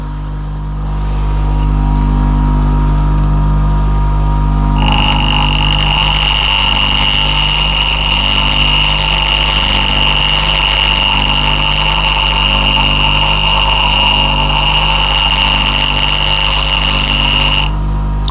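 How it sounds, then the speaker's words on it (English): A bench grinder runs steadily with a low motor hum, then a bright, sustained high grinding tone begins as a new burr is set on a steel scraper, lasting about thirteen seconds before stopping. "we'll go to a grinder and just set a new burr on"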